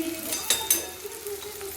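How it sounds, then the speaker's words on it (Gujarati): Chopped onion sautéing in oil with spoonfuls of garlic chutney added, a steady close sizzle with a couple of sharper crackles and stirring scrapes. "એક નાની ડુંગળીને આપણે 2 પરી જેવું તેલ હતું એમાં સરસ સોતે કરવા નાખી દીધું છે"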